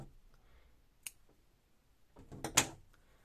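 Scissors snip through yarn after knotting the end of a crocheted chain on a plush Puss in Boots toy: one sharp click near the start, then a louder, fuller snip-and-rustle cluster near the end, close and quiet otherwise.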